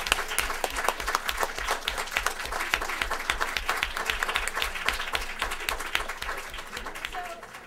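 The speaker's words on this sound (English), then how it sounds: "Let's give them a warm round of applause." An academic audience at a panel on mentoring gives a warm round of applause: steady, moderately loud clapping with distinct individual claps, fading slightly toward the end, with faint voices underneath.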